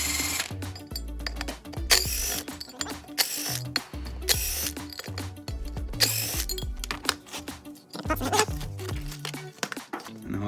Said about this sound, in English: We'll remove these 5 bolts.